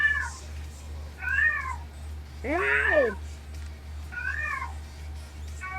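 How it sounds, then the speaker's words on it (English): A cat meows wildly in repeated, loud, wavering cries with pauses between, over a steady low hum and a brief exclaimed voice. "That cat is still going crazy."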